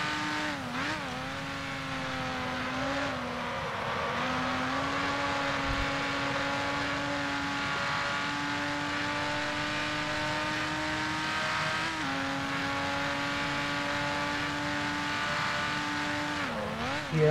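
Gordini T16 1955 Grand Prix race car in a racing video game, its engine droning steadily and loud for the whole stretch, pitch dipping briefly under braking near the start, around four seconds and at twelve seconds before climbing again.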